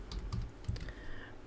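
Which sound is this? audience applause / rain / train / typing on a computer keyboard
typing on a computer keyboard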